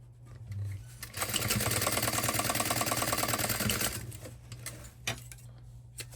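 A sewing machine stitches the side seam of a small tote bag in one continuous, rapid mechanical run lasting a few seconds, close and loud, with quieter handling noises before and after.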